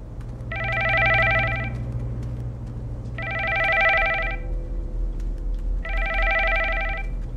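An old-style telephone bell ringing inside a house in the horror game The Nanny: three long, bright trilling rings separated by short pauses, clear and fairly loud over a low background rumble.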